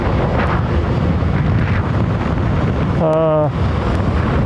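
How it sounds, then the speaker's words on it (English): Strong gusts buffet an outdoor microphone at London Heathrow Airport in 29-mph winds, a constant loud roar of wind noise filling the whole clip, with a brief tonal whine rising near the end. "That wind's pretty gusty, in a 29-mile-an-hour gust, I believe."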